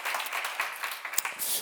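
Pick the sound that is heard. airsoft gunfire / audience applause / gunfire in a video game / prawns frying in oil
audience applause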